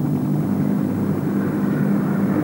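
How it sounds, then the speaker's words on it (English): An Apache attack helicopter flies over a desert battlefield, its steady engine roar loud and continuous, with no voices. "Swarming ahead and around the Allied advance, the Apache attack helicopter."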